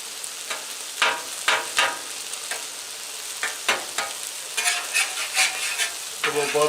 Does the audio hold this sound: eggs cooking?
yes